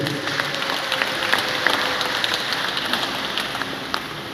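A church congregation applauds together, a dense, steady patter of many hands clapping at close range, continuous throughout with no voices standing out.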